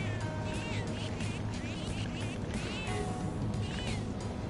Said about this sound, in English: If you can let me know if you're hearing the meowing. This is me just rubbing the touchpad